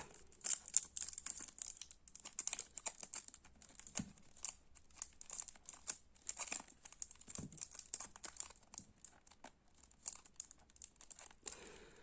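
Quiet, close crinkling and rustling of thin plastic foil being unwrapped from a CD, irregular and continuous, with occasional soft taps and scratches; no voices.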